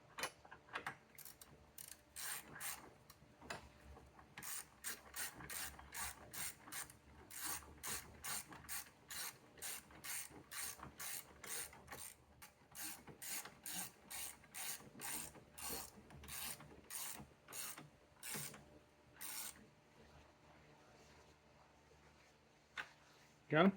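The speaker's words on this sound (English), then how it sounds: "Taking our 13mm bolt, and we reaching down in there to get it started" A ratchet tightens a 13mm bolt on the 12-volt battery of a 2017-2023 Chevrolet Bolt EUV, with close, brisk bursts of metallic clicking repeated in a steady rhythm until a pause near the end.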